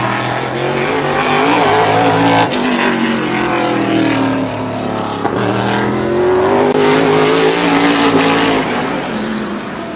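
A tour-type modified race car roars around Wall Stadium during qualifying, its engine loud and close with rising and falling revs as it accelerates out of a turn and down the straight.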